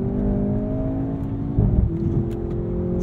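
A 2023 Mercedes-AMG C43 sedan with all-wheel drive and rear-wheel steering drives hard through corners, its engine whirring steadily with a brief louder surge of revs midway, heard from inside the cabin.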